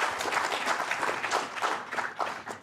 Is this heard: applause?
yes